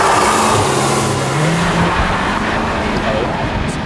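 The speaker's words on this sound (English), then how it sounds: "Ton of wheel spin" Volkswagen Golf R Mk8 on standard software with an aftermarket air intake, launching hard with heavy wheel spin; a loud, continuous engine roar and tire noise throughout, with a voice partly underneath.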